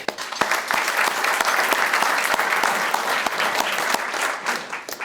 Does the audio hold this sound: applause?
yes